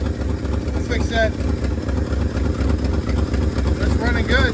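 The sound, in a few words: 1971 Ford F250 engine running after sitting nine years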